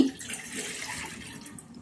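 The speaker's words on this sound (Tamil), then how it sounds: "ஸோ இந்த கிளாஸ்க்கு 1 கிளாஸ் தண்ணி எடுத்துக்கிறேன். 250 ml தண்ணி." About 250 ml of water is poured into a glass for a night fat-cutter drink, a soft splashing pour that starts slightly louder and tapers off, with no talk.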